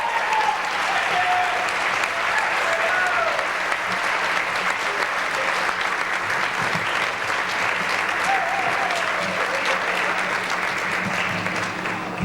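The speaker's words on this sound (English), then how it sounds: "they're sharing your applause" Steady, sustained audience applause fills a school auditorium at a senior awards night for the Class of 2000, dense clapping holding at an even level throughout with faint crowd murmur beneath.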